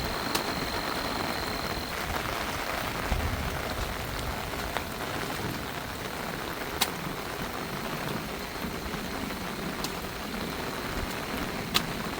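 Steady rain pours down at a Thai farmhouse during a seasonal storm, a dense continuous hiss with occasional sharper drips and taps standing out, no voices.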